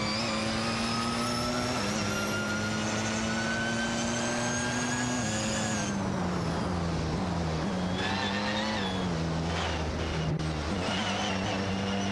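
Race cars in an AI racing video game roar past one another, a steady high engine whine that shifts pitch as one car overtakes another, continuous and fairly loud.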